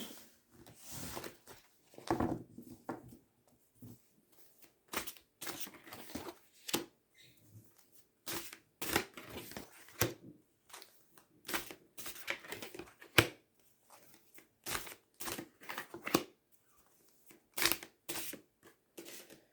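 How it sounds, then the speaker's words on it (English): Tarot cards are scraped, shuffled and picked up off a cloth-covered table in a quick irregular patter of soft close-up rustles and flicks, with brief gaps between bursts and a faint voice now and then. "this tablecloth's so bad for picking the cards up"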